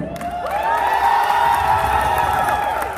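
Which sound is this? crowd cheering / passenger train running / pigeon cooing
crowd cheering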